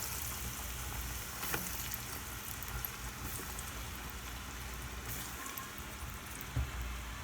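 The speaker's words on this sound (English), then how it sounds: "drop this in my oil. I'm gonna deep fry it." Sri Lankan style spicy fish cutlets deep fry in hot oil, giving a steady, dense sizzle and crackle with a few louder pops, heard alone without talk.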